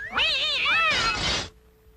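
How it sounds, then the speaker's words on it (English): A cat lets out a long, loud, wavering yowl as it is thrown through a window in an animated cartoon, the cry rising and bending before cutting off abruptly. "Who threw the cat through the window?"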